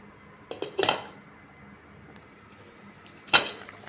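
A lid going onto a cooking pot of fish sinigang with moringa leaves and pumpkin tops: two sharp metallic clanks, a cluster near the start and a single one after a quiet pause, close and distinct.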